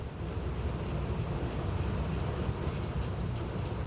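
A slow train on the Gyeongjeon Line railway in southern Korea rumbles steadily from inside or alongside, with a low continuous roll and faint rhythmic wheel clicks.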